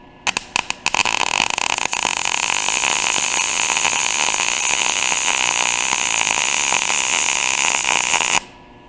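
A MIG-style arc weld laid about two centimeters long gives a steady, loud crackling buzz close by after a few short sputtering starts, running unbroken for roughly seven seconds before stopping abruptly.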